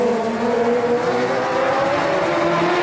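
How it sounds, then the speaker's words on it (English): ModLite race cars roar loudly and continuously around a dirt oval at the Big O, engines droning steadily with rising pitch as the pack accelerates under green. "Green flag racing with 4 laps left to go."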